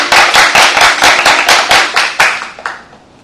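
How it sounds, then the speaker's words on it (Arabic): Classmates in a school classroom applaud their peer Omar, a burst of many hands clapping loudly together for about two and a half seconds before tapering off into a few scattered claps. "تصفيق حار لزميلكم عمر."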